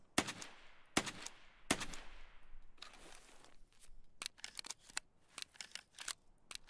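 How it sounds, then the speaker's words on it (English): Gunfire in the video game Escape From Tarkov: three loud, sharp shots about a second apart, then a rapid ragged string of quicker cracks, close and crisp with little else around. "I need you to shoot the scav coming up."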